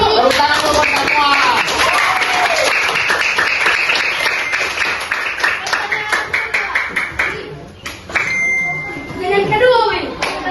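Schoolchildren clap in a classroom session about fighting corruption at school, a quick, busy patter of small hands that runs for several seconds under overlapping voices and fades into scattered claps near the end.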